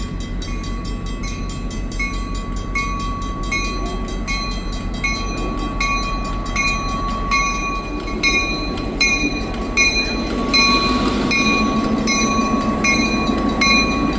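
A train locomotive passes close by on the rails: a loud, continuous rumble of engine and wheels with a sustained ringing tonal note over it, building slightly toward the end, with no voices.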